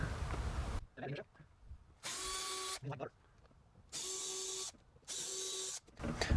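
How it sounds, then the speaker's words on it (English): A power drill boring holes in the trunk lid of a Honda Goldwing GL1800, whining in three steady bursts separated by quiet pauses with faint handling clatter, loud and close. "Okay, our holes are drilled."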